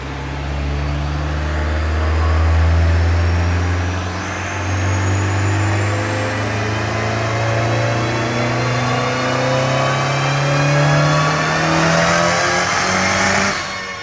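Car engine with a damaged turbo revving hard, a loud sustained engine drone rising and falling in pitch across several long pulls, with a faint whistle sweeping upward above it.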